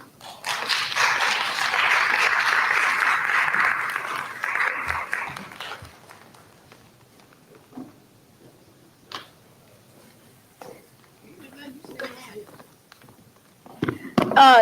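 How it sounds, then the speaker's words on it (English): A burst of audience applause at a domestic violence awareness conference swells for about five seconds, then dies away, leaving scattered knocks, rustles and faint voices. "Y'all give her another round of applause."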